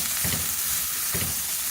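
Grated carrot and cabbage frying in a pan for a vegetable kabab, a steady soft sizzle with two brief stirring scrapes, close and without talk.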